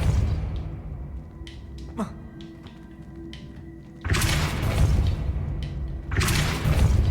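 Spell effects cast in the Hogwarts Legacy video game: after some soft ambient sound, two loud, broad whooshing blasts burst out and each lasts about two seconds, with a faint thud early on.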